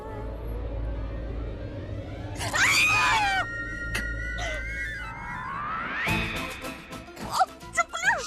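A woman screams from inside a room, a shrill rising wail that cuts in twice over a low hum, followed by sharp knocking or thumping sounds near the end.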